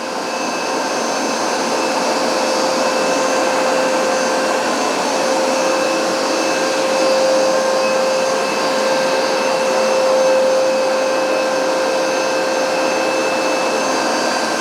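Hoover SmartWash Pet carpet cleaner running over a stubborn carpet stain, a loud, constant motor whine with a steady high tonal hum and airy suction roar, unbroken throughout.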